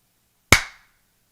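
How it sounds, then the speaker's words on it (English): A single sharp hand clap, close and crisp, rising out of silence with a quick decay and nothing else around it. "Clapping time."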